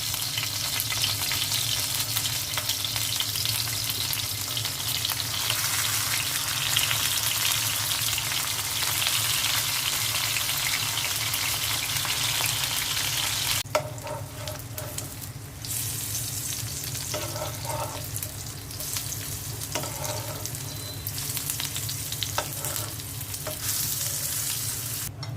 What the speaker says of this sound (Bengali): এখন আমি তেলে ছেড়ে দিচ্ছি।